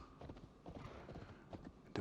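Horse hooves clip-clop steadily in Assassin's Creed Valhalla, a brisk, even rhythm of soft thuds across the whole stretch, at moderate level and unaccompanied by talk.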